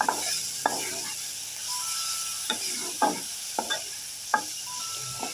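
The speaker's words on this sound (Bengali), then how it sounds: "খানিকটা উল্টে পাল্টে বাদামি রং করে ভেজে নিলাম" Onion and garlic paste with green chilli paste and turmeric fries in oil while being stirred, a soft steady sizzle broken by several sharp scraping knocks of the spoon against the pan, close by and without talk.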